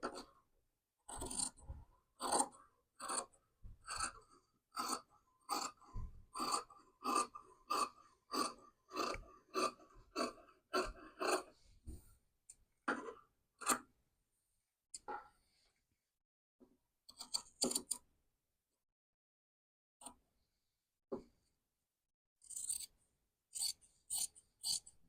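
Scissors snip through blouse fabric during tailoring, a rapid run of regular crisp cuts followed by sparser, irregular snips and pauses, close and clear with no talking.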